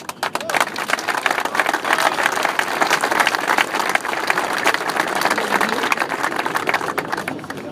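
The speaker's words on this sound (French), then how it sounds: "Donc on peut les applaudir." A crowd of farmers at an outdoor gathering on the Place de la Concorde claps at length, dense applause with scattered sharper claps and a faint hum of voices beneath.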